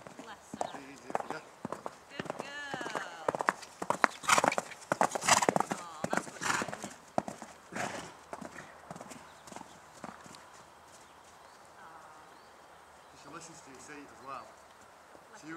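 A horse walking under a rider, its hooves clip-clopping on the ground in an uneven rhythm at moderate distance, with people talking over much of it.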